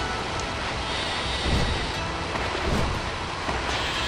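Steady broadband rushing of an ordinary waterfall in the Okami video game, a continuous even wash of falling water with slight surges and no voices.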